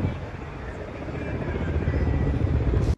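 A firefighting helicopter works over a forest fire, its rotor throbbing as a steady, loud drone that builds slightly and then cuts off abruptly at the end, with no voices heard.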